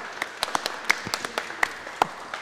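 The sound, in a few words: applause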